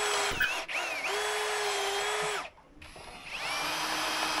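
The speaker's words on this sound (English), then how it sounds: "finally I drill a 12mm clearance hole on the stripper side." A power drill bores a 12mm clearance hole through the stripper side of a winch part, whining loudly with shifting pitch as it bites, then briefly stops and spins back up.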